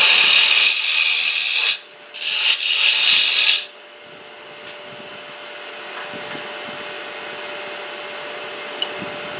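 Cutting at the base of a small wooden goblet spinning on a lathe: harsh, loud scraping bursts for a few seconds, broken by a brief pause, then only a quiet motor hum remains.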